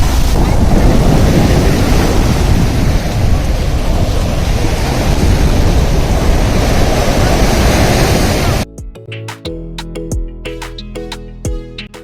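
Surf washes steadily onto Sinquerim Beach near the lower Aguada Fort in Goa, a loud, continuous roar of breaking waves with wind buffeting the microphone, cutting off abruptly near the end into quieter, choppy sounds.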